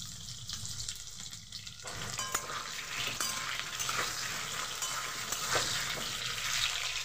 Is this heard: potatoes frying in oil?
yes